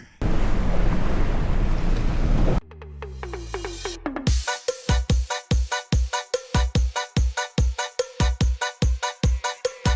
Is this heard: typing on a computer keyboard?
no